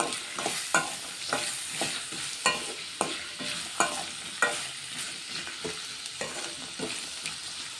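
Carrot and fenugreek fry stirred in a pan, rhythmic spatula scrapes repeating roughly every half second over a continuous soft sizzle.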